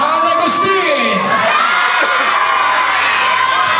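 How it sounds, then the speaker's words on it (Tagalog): San Agustin supporters at a championship basketball game, a loud crowd of shrill shouting and cheering voices roaring together continuously, with children's yells prominent. "Ito na ang sigaw ng San Agustin."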